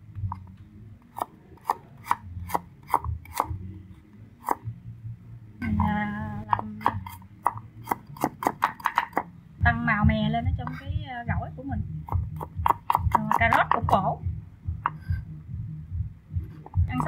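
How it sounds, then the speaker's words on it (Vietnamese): Carrots sliced into thin shreds for a vegan banana blossom salad at a vegetarian eatery, heard as quick repeated raspy knife strokes in bursts, close and fairly loud, over a low hum. "Mình sẽ sắc một ít cà rốt trộn vô nhìn cho nó ngon."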